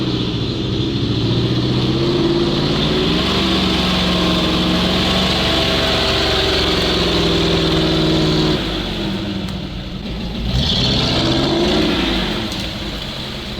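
GAZ-66 'Shishiga' truck stuck off-road, its engine revving hard and loud in sustained strained bursts with rising and falling pitch, a brief dip midway before climbing again.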